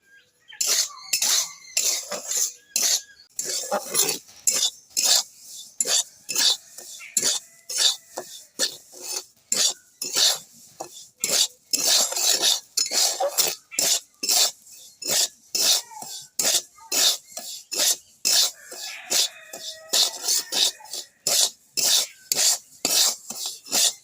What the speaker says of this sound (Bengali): এবার নুনটা ভালো করে ভেজে নিতে হবে।